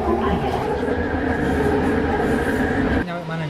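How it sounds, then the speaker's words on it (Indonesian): An LRT light rail train heading toward KLCC in Kuala Lumpur rumbles loudly from inside the car, a steady rolling roar with wheel and rail noise that drops abruptly near the end, with voices underneath. "kira-kira berapa kecepatan LRT kita menuju KLCC?"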